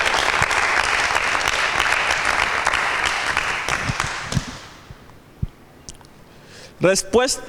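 Audience at a Bible quiz show applauds a correct answer, loud dense clapping that fades out over about five seconds before a voice begins speaking.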